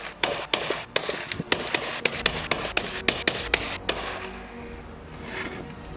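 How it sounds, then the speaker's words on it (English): A nail gun drives nails into wall sheathing while framing a 20-foot-tall circular room. About a dozen sharp, close shots fire in quick, uneven succession, then quiet work noise follows. "so you got to get your nail gun to every corner"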